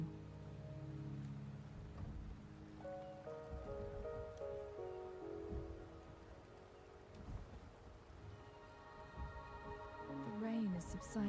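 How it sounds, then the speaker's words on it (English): Steady rain falls in a video game, a soft continuous patter on surfaces under a low melodic music bed, with a faint rumble of distant thunder. "The rain is subsiding, and the sky will soon clear."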